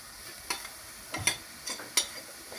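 Carrots sautéing in a pan: a low background sizzle with four or five quick, sharp scraping stirs at irregular intervals, close and fairly quiet.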